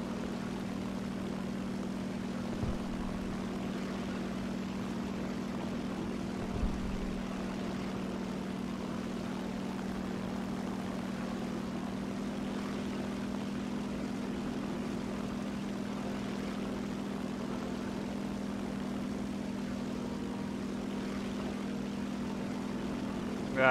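Steady, droning propeller-plane engine from a video-game dogfight against Spitfires, a continuous low hum held at even loudness for the whole stretch with no breaks.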